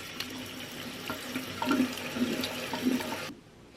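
Room-temperature tap water runs steadily into a bath while small Achatina snails are washed, a close, even splashing flow that stops abruptly near the end, with no talking.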